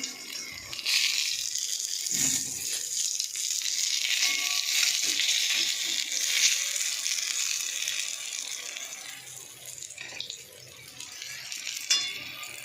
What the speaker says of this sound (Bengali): আমার পটল ভাজা হয়ে গেছে, এবার পটল ভাজা উঠিয়ে নেবো